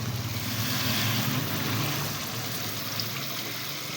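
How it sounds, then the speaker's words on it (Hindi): Water pours steadily into a cooking pot for a potato tahari rice dish, a continuous rushing, splashing flow that stays fairly loud throughout with no talk. "अब हम इसमें पानी ऐड कर देंगे।"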